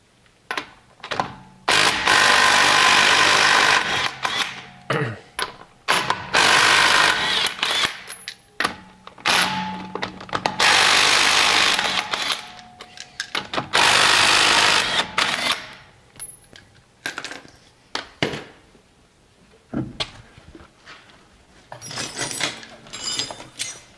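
Wheel removal on a 1985 Toyota van, with repeated loud bursts of mechanical whirring and clattering from a tool, separated by short pauses and quieter metallic handling noises.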